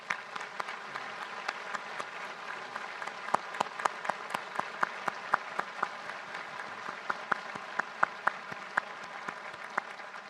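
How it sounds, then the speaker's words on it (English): Applause from the audience at an FBI National Academy graduation ceremony, a fairly quiet but steady patter of many hands with scattered sharper individual claps, continuing evenly throughout. "let's give everybody a round of applause, please."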